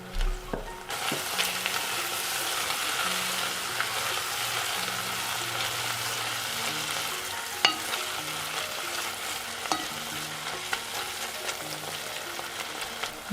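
Steady sizzle of onions frying in a pan with beef broth and balsamic vinegar, a spoon scraping and stirring through it in slow strokes, with occasional sharper clinks against the pan, continuous and close.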